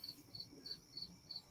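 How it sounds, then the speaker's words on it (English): Crickets chirp in steady, evenly spaced pulses, a faint, thin trill repeating about every third of a second over a quiet background hush. "We having fun listening to these crickets."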